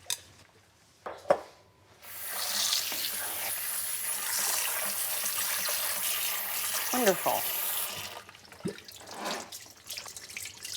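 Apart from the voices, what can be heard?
rinsing food in a sink under cold running water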